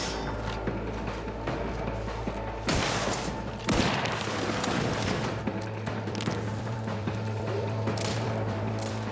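Gunfire in The Outer Worlds 2 rings out through a busy combat mix, with two sharp loud blasts standing out over a constant clattering background of shots and effects.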